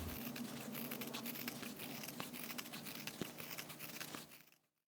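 Scissors cut fabric along a traced template for a round sewn coaster. Close, quiet and continuous crisp snipping and papery rustling, with no talk.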